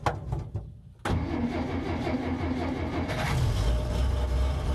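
A 1966 Dodge D200 pickup with its original slant six cranks briefly, then catches at about one second and settles into a steady, loud, close rumble with no talking.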